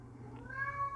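A pet cat gives a single rising meow, near and clear, starting faintly and growing stronger toward the end, with no talk over it in a quiet indoor room.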